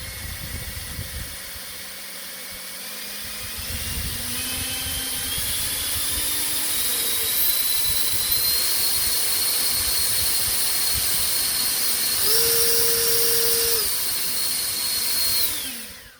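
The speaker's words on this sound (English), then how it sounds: "Not only do you have trigger control of the speed or of the power, but you can also put it on cruise control" A battery-powered leaf blower, EGO 56V or Toro 60V, whirs loudly and steadily up close as its fan pitch climbs with increasing power, then surges briefly higher before dropping off at the end.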